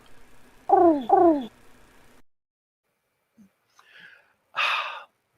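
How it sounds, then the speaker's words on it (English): Two pigeon coos sound in quick succession, each a short, falling call, followed by quiet gaps and a brief breathy noise near the end. "pigeons, 'cause they coo."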